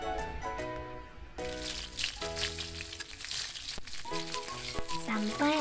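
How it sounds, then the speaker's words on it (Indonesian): Flour-coated prawns fry in hot oil in a pan, giving a steady, close sizzle under background music. "kita goreng deh udangnya"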